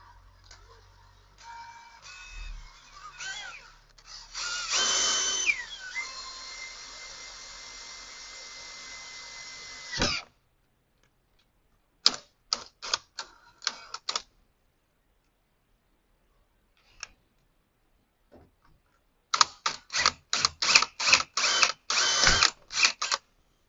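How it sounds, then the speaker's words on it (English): A power drill whirs steadily for several seconds drilling a pilot hole and stops, followed by scattered clicks and then a series of short, sharp bursts of drilling. "get your pilot hole drilled"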